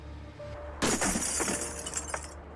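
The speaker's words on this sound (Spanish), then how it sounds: "utilizaron la poderosa garra del robot para romper el vidrio." Dark window glass smashed by a robot's powerful claw: a sudden loud crash and shattering burst that sustains with scattered tinkling debris for about a second and a half before cutting off.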